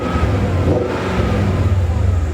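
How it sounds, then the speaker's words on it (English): A 2000 BMW M5 engine revving as the throttle is tapped, a loud, close, rising and falling growl with a strong low rumble that stays throughout the short burst. "I'll tap the throttle here."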